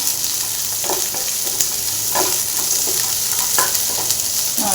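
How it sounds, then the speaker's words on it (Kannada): Onions fry steadily in hot oil toward golden brown for paneer keema, giving a constant close sizzle broken by regular spatula scrapes against the pan, with no talking. "ಚೆನ್ನಾಗಿ ಗೋಲ್ಡನ್ ಬ್ರೌನ್ ಬರೋವರೆಗೂ ಫ್ರೈ ಮಾಡ್ಕೋಬೇಕು"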